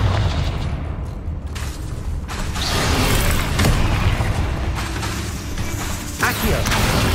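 Fiery spell blasts from the Confringo curse in Hogwarts Legacy, heavy booming impacts and crackling bursts rolling over one another in a loud, dense, continuous barrage of battle noise.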